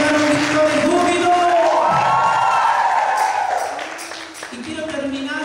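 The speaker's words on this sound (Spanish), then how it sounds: "¿Cuántos pueden dar un grito de júbilo?" A church congregation at an international congress cheers and shouts for joy, loud sustained whoops and cries from many voices that swell then ease near the end, with some clapping underneath.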